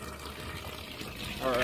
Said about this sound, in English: You guys already see that the water's already filling up the tube